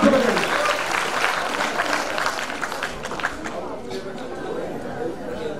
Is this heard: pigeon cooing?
no